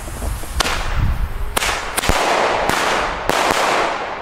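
Single-shot fireworks bought at Lidl go off outdoors, several sharp, loud bangs spaced irregularly over a constant crackling, hissing wash of sound.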